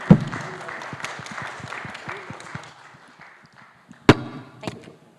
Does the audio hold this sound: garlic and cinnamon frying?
no